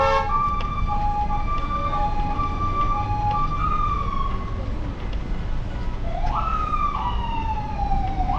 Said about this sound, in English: you see the ambulance is trying to pass and can't because there's no space